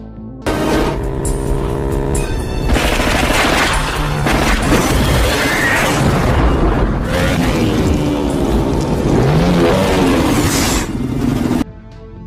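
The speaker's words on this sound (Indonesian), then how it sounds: "aksi kejar-kejaran sengit yang diwarnai baku tembak tidak dapat lagi dihindari" An action-film car chase with gunfire and explosions: a dense, loud roar of revving engines, crashes and booming blasts runs almost unbroken for about eleven seconds before cutting off abruptly.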